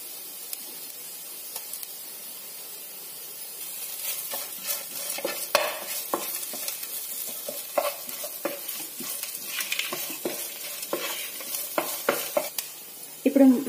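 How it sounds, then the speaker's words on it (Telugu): Chopped onion fries in a pan with ginger-garlic paste for curry leaves rice, a soft steady sizzle under repeated scraping and stirring strokes that grow more frequent, ending in a louder clatter, with no talking. "ఉల్లిపాయ ఫ్రై అయిన తర్వాత ఇందులోకి అల్లం వెల్లుల్లి పేస్ట్ వేసుకోవాలి"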